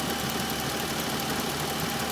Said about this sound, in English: It's a metallic rattling,